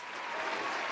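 A short burst of dense audience applause at a live aviation show event, steady and fairly close, with no voices over it.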